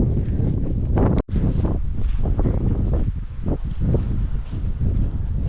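Cold wind gusts steadily across open farm fields beside a canola crop, buffeting the microphone with a constant rough roar and no voices.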